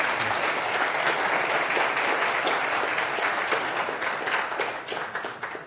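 Sustained applause from a forum audience at a Korean university, dense steady clapping that holds for several seconds before thinning out slightly toward the end.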